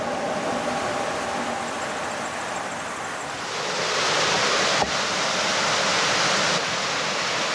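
A rushing torrent in an Alpine river roars loud and steady, a broad continuous wash of water that grows fuller and closer partway through, with no voices over it.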